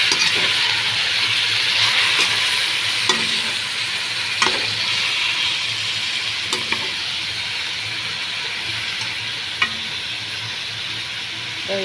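Prawns fry in a pan with a loud, continuous sizzle, broken now and then by faint clinks as they are stirred, and no voices.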